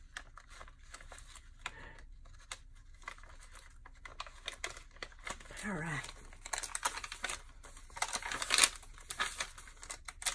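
Paper crinkles and crunches in bursts of rustling, with soft handling noises and quiet talk mixed in.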